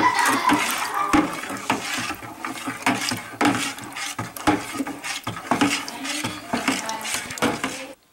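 Wine must being stirred to dissolve sugar, a rapid clatter of a utensil scraping and knocking against a pot, steady and close until it stops abruptly.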